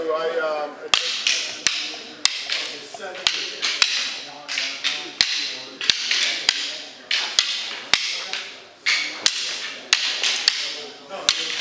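Sword and dagger strike in traditional Espada y Daga coordination drills with sharp, regular clacks. The hits come about twice a second in a steady rhythm, close and loud, with talk underneath.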